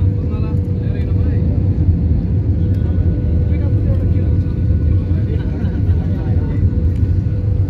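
A steady low roar fills the cabin of a Nepal Airlines plane landing at Kathmandu, constant and loud throughout, with a person talking over the engine drone.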